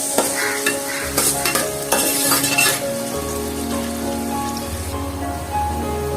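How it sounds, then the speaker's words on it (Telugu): Sliced onions frying in oil for a chicken curry, a close crackling sizzle with clattering stirs and scrapes early on that settles into a steadier hiss, no one speaking. "ఆనియన్స్ బాగా వేయించుకోవాలి, బ్రౌన్ కలర్ వచ్చేటట్టు వేయించుకోండి."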